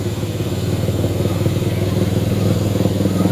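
A motorcycle carries a bride along a rural footpath through rice fields. Its mid-pitched engine putters loud and close with a steady, rhythmic pulse, and no one speaks over it.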